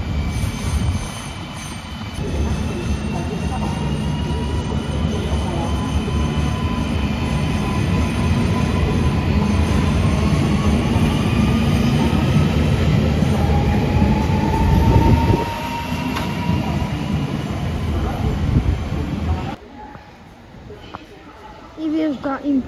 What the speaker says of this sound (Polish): I wjeżdża impulsik do lotniska